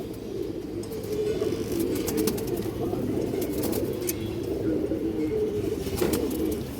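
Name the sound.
pigeons cooing at a pigeon market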